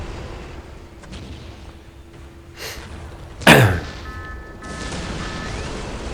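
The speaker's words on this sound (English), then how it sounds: "I only can shoot it with artillery" Artillery fire in the Dawn of War: Unification strategy game, Imperial Guard against Orks, with one sharp loud blast standing out against quieter ambient battle noise and a few lighter thuds before it.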